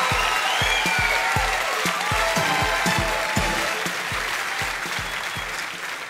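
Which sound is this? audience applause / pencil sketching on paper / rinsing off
audience applause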